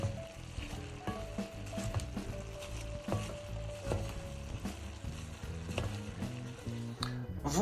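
Red cabbage mixed with small cubes of apple being stirred in a pot, a steady churn of spoon scrapes and soft sizzling over a busy, close kitchen background with no talking.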